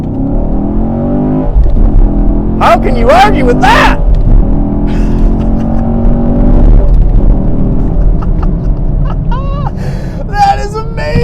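A 2021 Chevrolet Camaro SS 1LE V8 engine roars and rises in pitch as it accelerates on a backroad, loud and close, with someone talking over it.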